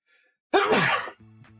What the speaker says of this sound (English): Hang on, I'm about to sneeze.